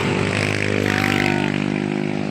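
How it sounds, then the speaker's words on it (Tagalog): A racing motorcycle engine revving at a steady high pitch, close and loud, with a slight rise and fall across a short burst and no talk over it. "Boy, ano masasabi mo sa pangkarerang motor?"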